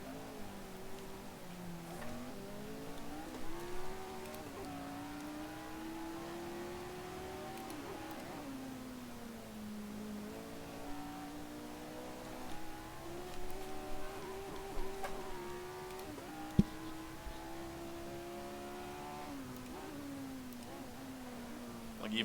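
Engine of a Lotus 49 race car lapping the Nürburgring GP circuit in a sim racing game, a steady rising and falling whine with gear shifts across the whole stretch, at moderate level.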